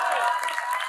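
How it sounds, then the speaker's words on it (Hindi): Audience applause at a Hindi heroic poetry recital on a kavi manch stage, a brief burst of dense, steady clapping heard close and fairly loud. "तालियां कमजोर रहेगी दोस्त आपकी"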